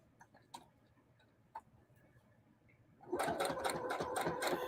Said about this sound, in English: I'm sewing it around the edges to hold the edges down.